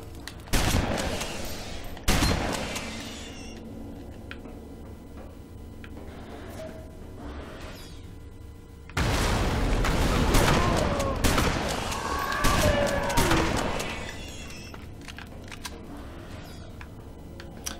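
Cannon gunfire from the Alien Breed Impact video game, with loud repeated blasts at the start and a dense burst of firing in the middle, over a steady game backdrop and no talking.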